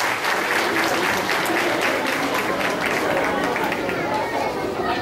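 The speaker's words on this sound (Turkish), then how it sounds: "Büyük bir alkış alabilir miyim" Loud, dense applause from a festive crowd at a community celebration, continuous clapping with crowd chatter and voices mixed in throughout.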